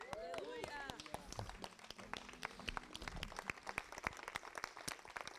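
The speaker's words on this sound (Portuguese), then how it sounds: "Aplauda o Senhor." Congregation at a dawn worship service during a church camp applauds with scattered, crisp claps while voices and a rising shout carry over the top, fairly loud and close.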